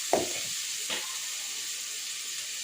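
Crab curry frying in a pan at home, a constant soft sizzle and hiss with two brief stirring clatters near the start, close by.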